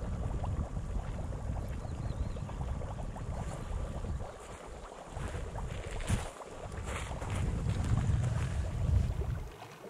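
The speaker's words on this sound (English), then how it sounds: "Then I went to investigate a strange bubbling noise." Air bubbling up through a shingle beach at low tide on a loch shore, a continuous soft gurgling and fizzing hiss that swells and fades over several seconds, with faint wind noise and no talking.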